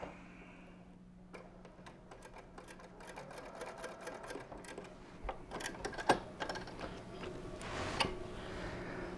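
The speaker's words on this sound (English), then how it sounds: "on the top, the widest edge, we are going to sew a 1/4 inch seam" A sewing machine stitches a small 1/4 inch seam along a fabric edge in quick rhythmic bursts of clicking, pausing and resuming, close and fairly quiet.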